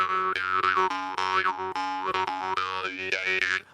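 A melodic jaw harp, a vargan, plays a springy twanging rhythm with a steady drone. Its overtones shift and wail up and down through the phrase, close and clear, with no voices.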